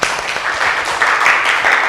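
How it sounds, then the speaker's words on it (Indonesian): A classroom of students applauding together, a dense continuous patter of many hands clapping at steady loudness for a couple of seconds with no talking. "Oke, tepuk tangan."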